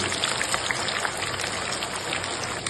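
Chicken frying in hot oil gives a continuous dense crackle and sizzle, even and close, with no voices over it.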